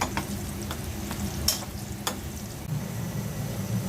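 Shrimp mash and fried teasel gourd being stirred and scraped in a pan, with soft sizzling and occasional sharp clinks of a spatula, quiet and close with no talking.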